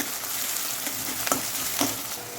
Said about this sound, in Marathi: कांदा मी दोन कांदे कट करून घेतलेले आहेत कांदा आपण मस्त फ्राय करून घेऊ